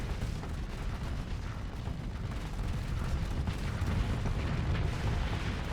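Rapid shotgun weapons fire from ships in the Starsector space combat game, a dense, continuous barrage of overlapping bursts and booms at steady loudness throughout, with no talking.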